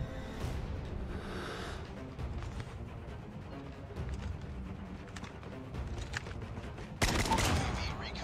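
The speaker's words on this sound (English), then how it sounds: "Oh, he shot me." Gunfire in Call of Duty Mobile: scattered shots and short bursts ringing out over a continuous battle background at moderate loudness, with a sharper louder volley near the end.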